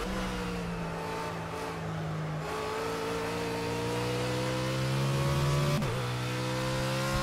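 A BMW Z4 GT3 race car engine in Project CARS, driven at the Nürburgring GP, holds a loud, steady high-revving drone with smoothly rising pitch, then a quick shift dip near the end, with no voices.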